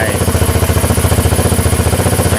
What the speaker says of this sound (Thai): แล้วก็สตาร์ทดูครับ รอบรอบรอบเครื่องขึ้นแล้ว